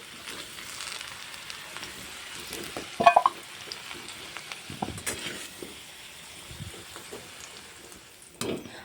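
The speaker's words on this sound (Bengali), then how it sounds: "এখানে আমি আলুগুলোকে লাল লাল করে ভেজে নিয়েছি এখন আমি কড়াই থেকে তুলে নেব" Browned potato pieces fry in a kadai wok with a continuous close sizzle, broken by a few louder scraping and stirring knocks.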